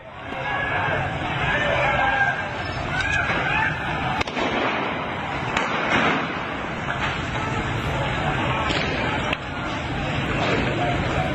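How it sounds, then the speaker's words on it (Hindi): Rapid bursts of gunfire aimed at protesters in Iran, caught in news footage, crackle over a dense crowd din with sharp cracks scattered throughout, and chattering voices keep going underneath. "ईरान में विद्रोहियों पर ताबड़तोड़ फायरिंग हो रही है।"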